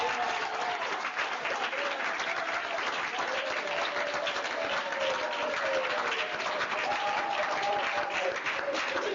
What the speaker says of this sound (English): So I just want to give a big round of applause for our parents.